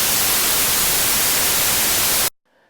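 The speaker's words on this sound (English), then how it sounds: "just 3 bars of white noise." White noise rendered in Pro Tools, a loud, dense, steady hiss lasting a couple of seconds, then cutting off abruptly to near silence.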